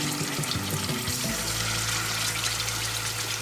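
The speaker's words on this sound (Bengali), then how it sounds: "আমি পুরো চিকেনটাকে ভেজে নিচ্ছি।" Marinated chicken frying in oil for Kashmiri chicken masala, a steady close sizzle that starts after a brief clatter at the beginning and then holds loud and even.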